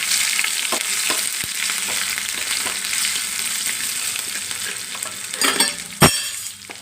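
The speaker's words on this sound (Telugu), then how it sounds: "పోపు వేగిపోయిందండి" A tempering of mustard seeds, garlic, dried red chillies and curry leaves fries in hot oil for tomato dal with a loud, continuous sizzle. A few sharp pops and stirring knocks come near the end.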